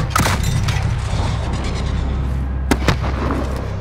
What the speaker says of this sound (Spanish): ¡Encendiendo bengala!